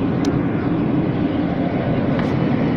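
Airliner jet engines of a Gol Airbus on landing approach into Congonhas, heard from inside the cabin as a steady, loud low roar with no change over the short stretch.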